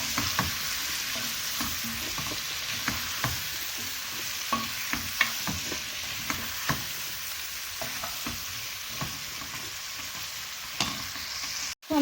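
Ridge gourd curry stir-fried on high heat, with a steady loud sizzle throughout and repeated scraping clicks of a spoon stirring the pan, close up and without voices.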